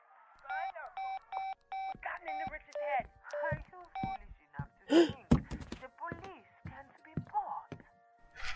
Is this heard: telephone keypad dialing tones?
yes